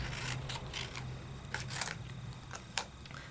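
Scissors snipping through paper at a scrapbooking craft table, a few short crisp cuts spaced apart over a low steady background hiss, near and moderately quiet, without talk.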